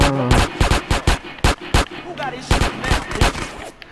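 Repeated sharp gunshots from Grand Theft Auto: San Andreas, about a dozen loud, close cracks in irregular bursts, with someone speaking in between.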